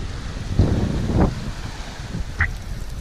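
Gusty wind of about 25 knots buffets the microphone aboard a sailing boat in rough blustery bursts, with water washing below and a brief higher squeak near the end.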